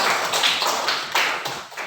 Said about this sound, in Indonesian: tepuk tangan buat Rena ya